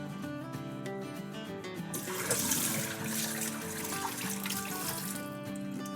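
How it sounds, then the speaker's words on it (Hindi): Starchy water pressed out of grated potatoes is poured away in a kitchen, a steady trickling, splashing stream that swells midway, with background music underneath. "अब ये पानी जो है इसको फेंक देते हैं।"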